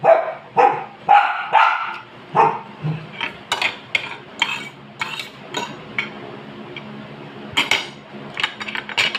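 Several dogs bark in loud, irregular bursts close by, with faint clinks of dishes and cutlery in between.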